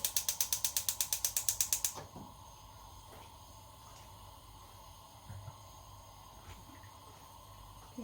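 A gas stove's igniter clicks rapidly, about a dozen sharp ticks in two seconds, beneath a steamer of Burmese-style chicken, then the burner catches and settles into a steady, close, soft hiss with no voices.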